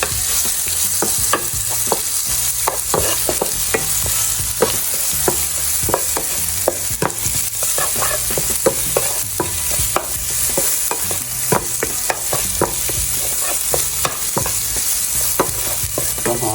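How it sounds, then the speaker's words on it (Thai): Pounded chili with garlic and shallots is stir-fried in a hot pan, a loud continuous sizzle broken by rapid, rhythmic spatula scrapes and taps against the metal throughout, with no speech. "เอาพริกที่เราตำกับกระเทียมหัวหอม ลงไปผัดเลยนะครับ"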